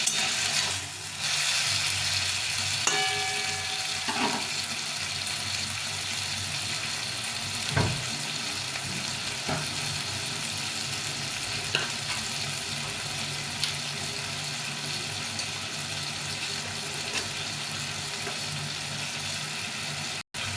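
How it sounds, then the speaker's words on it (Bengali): Tomatoes for a tomato pickle frying over raised heat in a pan, a steady close sizzle with occasional scrapes and knocks of stirring, no voices. "টমেটোটাকে ভালো করে ভেজে ভেজে নিতে হবে একটু হিটটা বাড়িয়ে দিয়ে ভালো করে ভেজে নিতে হবে"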